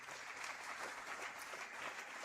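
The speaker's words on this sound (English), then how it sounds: "I think we should give him another round of applause" Sustained audience applause after an inaugural university lecture, a dense, even wash of clapping from a large hall crowd, heard at a distance and fairly soft.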